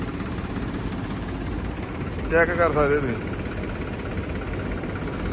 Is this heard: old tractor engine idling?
yes